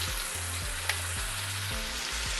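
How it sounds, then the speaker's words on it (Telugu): Onion paste sizzling steadily in a hot pan, a continuous close frying hiss with a faint stir or clink partway through and no voices. "ఇది వేసిన తర్వాత ఒక 5 నిమిషాలు వేయించాలి."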